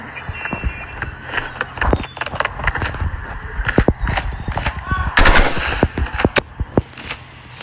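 Dense rapid gunfire from the video game Rivals, with automatic bursts and single loud shots packed closely together and a sharp flurry near the middle, all close and loud.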